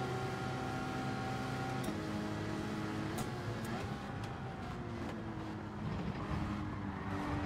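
Race cars lapping Watkins Glen in Gran Turismo 7 during a manufacturers' cup race, a steady layered engine drone with shifting whining tones from several cars, moderately quiet and continuous.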